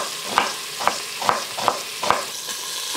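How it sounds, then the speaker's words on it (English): Pork pieces searing in a pan for Asian pulled pork, with five evenly spaced stirring or scraping strokes over a steady background sizzle, fairly close and with no voices. "once they're done searing on both sides, you can pull them out and get the next batch going"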